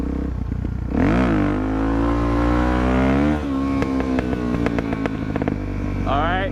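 A motorcycle engine revs hard and loud up close, its pitch climbing and holding during a wheelie, then dropping back into a series of sharp throttle blips and a final rising rev.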